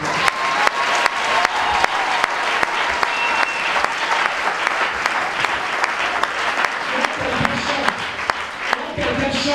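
Congregation applauding to acclaim the Lord at a church seminar, steady sustained clapping from a large crowd lasting several seconds, with a few voices rising near the end.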